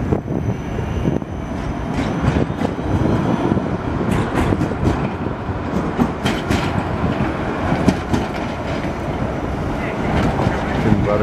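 An old converted tram rumbles past nearby in Poland, with rhythmic clacking over track joints and squealing metal over a continuous low roar; faint voices mixed in.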